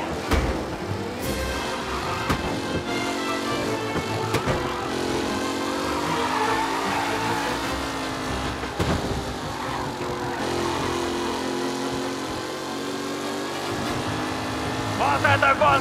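Race cars in Mafia: Definitive Edition roar and rev past in close succession, their engines rising and falling over about sixteen seconds with several sharp bursts. A voice speaks over the racing.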